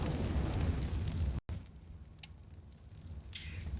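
A grenade exploding in mid on the Anubis map during a Counter-Strike match: a loud, sustained, rumbling blast that cuts off abruptly and leaves quieter game ambience with a few faint distant noises.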